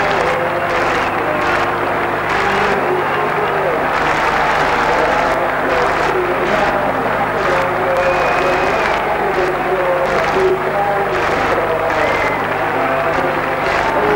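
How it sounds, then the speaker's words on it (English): Football stadium crowd applauding Southampton's Francis Benali at the end of a match, a steady, broad roar of clapping and crowd noise with faint cheers, heard from within the stands. "Benali takes the applause as the match ends"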